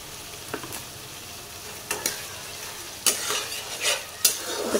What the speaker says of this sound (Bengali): আমি কষাতে থাকবো যতক্ষণ না এগুলো তেল বের হচ্ছে।